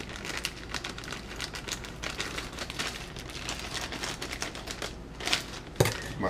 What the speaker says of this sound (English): the bag of chocolate chips.